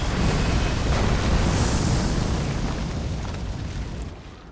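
Rolling Magma fire spell cast in Elden Ring, a heavy rumbling burst of eruption-like roar that sustains loudly across the whole stretch and slowly fades toward the end, with no talking.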